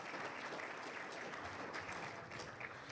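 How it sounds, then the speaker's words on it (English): Sustained applause from a crowd at a chamber of commerce awards gala, a dense, even wash of many hands clapping that holds steady throughout, moderately distant with no voices. "give that a nice round of applause"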